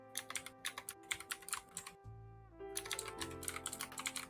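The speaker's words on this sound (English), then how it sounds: "What is Cecilia typing?" Rapid clicks of computer keyboard typing come in close, crisp bursts with a brief pause midway, while a low tonal music bed plays underneath.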